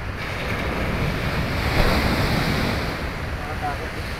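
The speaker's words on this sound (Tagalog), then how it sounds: "Grabe lakas ang alon dun." Strong ocean waves roar in a dense, loud wash with wind buffeting the microphone, a steady surge swelling slightly midway.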